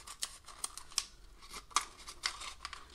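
Scissors snip through the top of a plastic cup, a string of short, crisp cutting clicks at an uneven pace, close and fairly quiet, with no talking.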